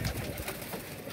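Soft, low cooing of pigeons on a rooftop close by, a quiet murmuring coo over faint background noise.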